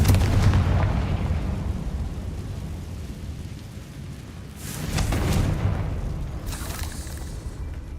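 A Confringo fire spell blast in Hogwarts Legacy lands as a booming burst amid rumbling game noise. A second, sharper burst follows a little later, and no one speaks.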